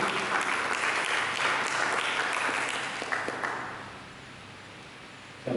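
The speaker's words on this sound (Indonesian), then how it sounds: "Berikan tepuk tangan bagi Yesus." A church congregation applauds together in a dense, steady wave of clapping that fades out over the last couple of seconds, leaving near quiet.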